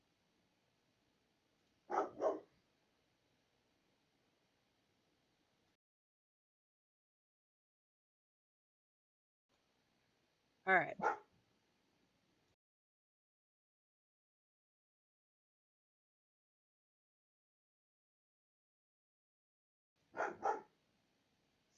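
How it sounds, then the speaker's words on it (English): A single dog barks in short bursts three times, widely spaced, against near silence, with a brief spoken remark in between. "Sorry about the dog."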